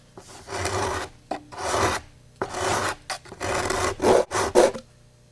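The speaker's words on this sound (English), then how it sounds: "Other places you'll just have to get in there with some thin sandpaper and just take your time and do a good job." Thin sandpaper rasps over a Saturn V model rocket in short, uneven strokes, close and fairly quiet, with brief pauses between passes.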